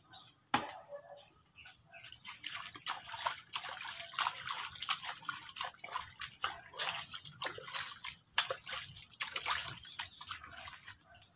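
Water trickles and drips steadily nearby, irregular splashy patters over a quiet outdoor background with faint insects or birds.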